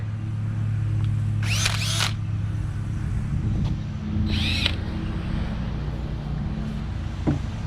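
A cordless drill fitted with a wire brush, set to heavy torque, scrubs the pinch welds of a 2014-2024 Chevy Silverado/GMC Sierra during windshield replacement: two short whirring bursts over a steady low hum.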